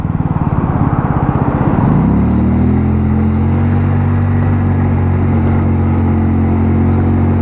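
An AJS Modena 125cc motorcycle on a test ride, its small engine chugging in quick pulses and then revving up near the two-second mark into a steady, loud, close hum that holds to the end with no talk.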